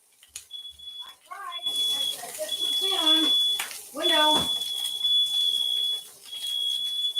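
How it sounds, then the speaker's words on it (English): A high-pitched smoke alarm beeps in a steady intermittent pattern while people talk and exclaim nearby. "We have the worst smoke detectors in the world."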